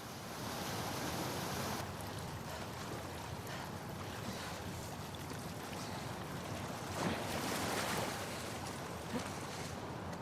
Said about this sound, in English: the player was faced with a fast-flowing torrent of water they couldn't cross